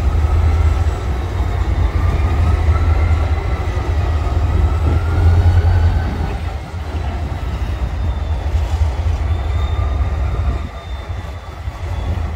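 A Florida East Coast Railway freight train rumbles past a rail yard at New Smyrna Beach, Florida, with a loud, steady low roar of cars and wheels that dips slightly midway and continues with faint squeals.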